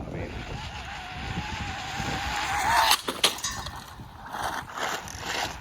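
An Arrma Mojave Grom RC car skids and crashes, with a whining motor and tire scrub building up, then sharp impact cracks and tumbling clatter, followed by quieter scraping and rustling.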